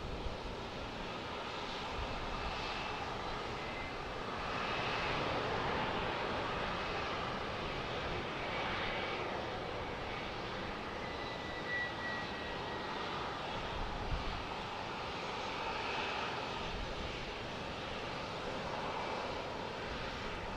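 An Embraer Legacy business jet operated by FlexJet at Dallas Love Field gives a steady, broad engine roar at moderate distance, holding level throughout with wind and a stormy outdoor backdrop.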